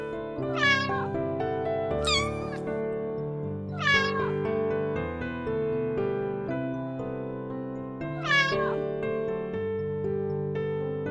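A kitten separated from its family meows loudly and repeatedly, high-pitched rising-and-falling cries spaced a couple of seconds apart over a steady background drone.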